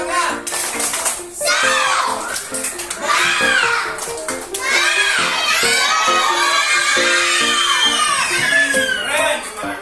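A classroom of children performs a 'tepuk semangat' clapping chant, with loud rhythmic claps mixed with excited shouting and cheering voices in close, energetic bursts.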